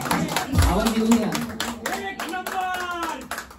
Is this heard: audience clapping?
yes